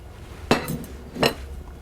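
A spoon knocking against a bowl while mixing pumpkin cookie batter by hand, two distinct clinks about three quarters of a second apart over quiet room noise.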